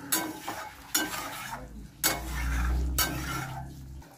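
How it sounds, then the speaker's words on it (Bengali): Hot water poured into a sizzling Bengali bata fish curry in a pan: sharp stirring scrapes and clinks, then a rising, hissing rush of liquid hitting the hot pan, followed by more stirring. "এবার আমি গরম জল দিচ্ছি।"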